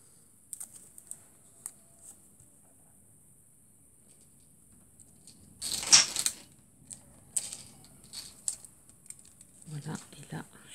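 A typewriter used for paper crafting alongside a stamp, tapping out scattered, quiet key strikes with a denser burst of clacks midway.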